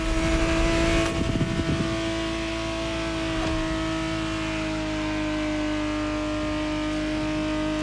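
In the video game The Crew Motorfest, a 1991 Ferrari 512 TR engine holds a steady high-pitched drone, with a burst of acceleration and some clatter early on before settling into sustained cruising.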